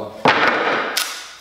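A glued mitered wood casing joint cracks apart under force, a single sharp snap near the start followed by a second brief crack about a second later, loud and close.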